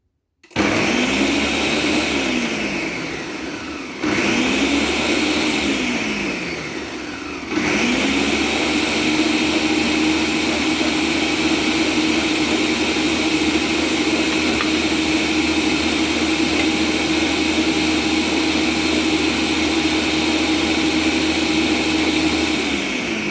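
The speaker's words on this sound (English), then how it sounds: "Sorry about the noise, guys, but I'm going to blend it up." A loud blender whirs continuously blending lemon and aloe, its motor pitch dipping and surging as it restarts twice before settling into a steady high-speed roar.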